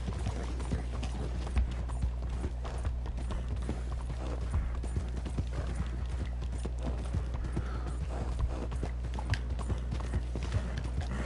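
Horse hooves clip-clop at a steady galloping rhythm in the Red Dead Redemption 2 online game world, continuous and fairly close, with a low constant rumble beneath and no talking.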